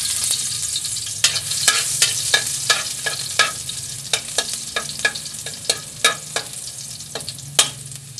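Three cloves of garlic sizzle and spatter in about two tablespoons of hot cooking oil, with stirring clinks and scrapes breaking in at irregular intervals over a steady frying hiss.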